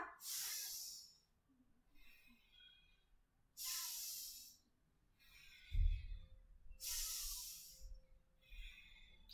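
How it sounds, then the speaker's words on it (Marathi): Deep, rhythmic breaths during a yoga flow, with three long, loud airy exhalations spaced a few seconds apart and softer inhalations between, close to the microphone with no talk. "घेत सोडत, घेत सोडत. मोठा श्वास घ्या."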